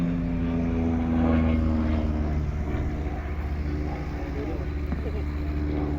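A Pitts aerobatic biplane's engine droning and shifting pitch through a display manoeuvre at the East Kirkby airshow, a steady buzzing propeller hum with a commentator talking over it throughout.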